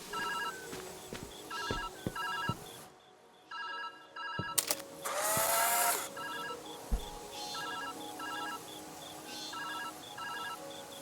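A telephone rings repeatedly in the puzzle video game Viewfinder, an electronic trilling ring in regular bursts, pausing briefly, then continuing, with a whooshing game effect and faint footsteps in between.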